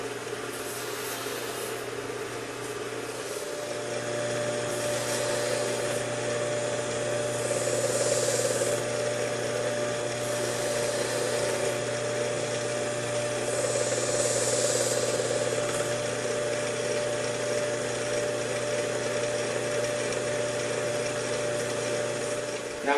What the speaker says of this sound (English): then I can go side to side using the fine honing grit belt